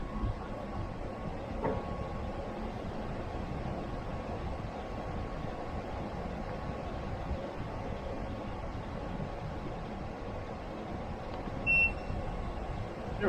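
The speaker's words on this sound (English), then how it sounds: "the air conditioner was still running" A portable air conditioner on max cooling, powered by an Ecoflow Delta 2 power station, gives a steady broadband hum and whoosh of fan and compressor throughout, with one brief beep near the end.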